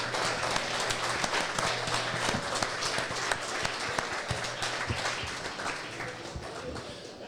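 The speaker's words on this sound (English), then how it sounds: "So can we maybe have a round of applause for Matty Johnson?" An audience in a club gives a round of applause, a dense wash of clapping that stays steady for several seconds before slowly thinning out.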